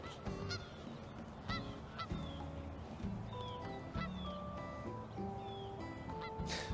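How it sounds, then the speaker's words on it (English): Several geese honk repeatedly, their calls overlapping in a noisy outdoor setting, some close and loud, others farther off. "But apparently there are geese."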